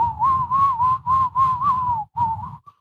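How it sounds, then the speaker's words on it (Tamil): A person whistles a lilting melody to match a song, a run of sustained, gliding notes in short phrases with brief breaths between, close and clear with no talking. "பாட்டுக்கு தகுந்த மாதிரி விசில் அடி"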